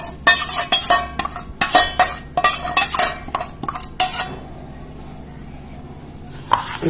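Sugar and butter are mixed in a bowl with a utensil, making quick, rhythmic scraping clinks that stop after a few seconds and leave near silence.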